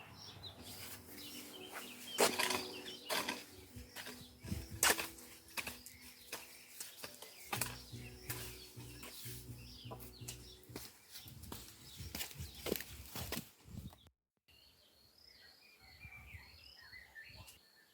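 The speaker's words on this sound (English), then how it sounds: "I hope you can hear the chirping of the birds" Outdoor evening ambience in a village full of bird chirps and calls, with steady insect trilling underneath; busy and layered, thinning out and quieter toward the end.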